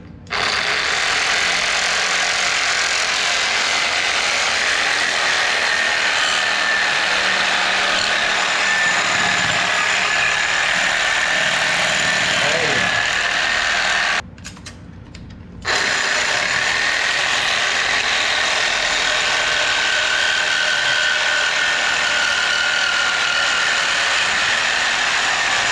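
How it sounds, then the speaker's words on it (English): A reciprocating saw fitted with a metal blade cuts into a large electric motor, giving a loud, harsh, continuous buzzing rasp that cuts out for about a second midway, then resumes and runs on. "I got a sawzall here with a metal blade on it. So we're gonna cut it and hope this works"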